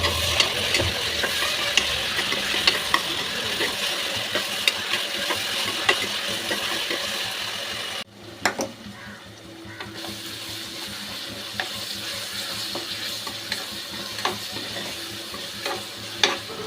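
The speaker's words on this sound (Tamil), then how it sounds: "நல்லா பழுத்த தக்காளியாக மூணு தக்காளி சேர்த்துக்கலாம் வதக்கி எடுத்துக்கலாம்" Steady sizzling and frying of ripe tomatoes in a pan with occasional stirring scrapes, a continuous hiss that briefly dips before resuming.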